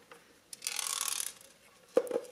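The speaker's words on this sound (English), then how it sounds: "As you can hear, something's loose and rattling in there." A loose broken part rattles and slides inside a Chadwick Add-A-Mite mechanical adding machine as it is handled, giving a close scraping rattle followed by a couple of sharp knocks.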